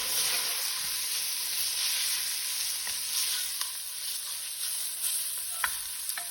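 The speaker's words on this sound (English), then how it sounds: "we're going to add some tomato paste in here. And we want to cook that down" Tomato paste cooks down in a soup pot with a continuous bright sizzle, punctuated by occasional scrapes and taps of a stirring spoon; no talking.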